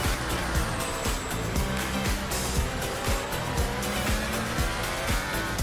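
A Formula 1 race car engine in a racing video game set in Azerbaijan screams loud and close, with rapid downshifts and throttle blips and a constant high-revving whine throughout.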